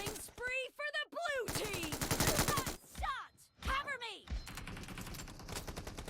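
Bursts of PUBG gunfire, rapid shot volleys and crackling impacts, sound close and loud among in-game effects, with someone talking over parts of them.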